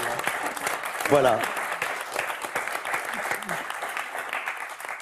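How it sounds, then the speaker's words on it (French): Studio audience applause on a French television game show, a steady dense clapping that fills the whole stretch while a host speaks briefly over it. "vous pouvez l'applaudir"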